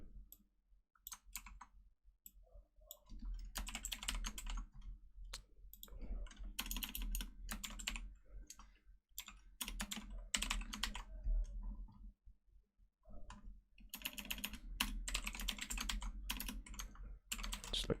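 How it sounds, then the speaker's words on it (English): Fingers type on a computer keyboard while writing Java code, rapid clattering bursts of key clicks broken by short pauses, near and fairly quiet over a low background hum. "So all I can do is just type in the name."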